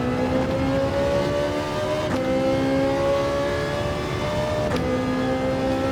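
A Ferrari GT3 race car in Gran Turismo 7 drives hard, its engine note held loud and close with steady rising pitch and two quick gear shifts.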